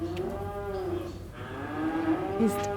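A cow moos in long, drawn-out calls on a farm where a calf drinks from a lactating cow, the lowing fairly close and steady with a brief break before a second call.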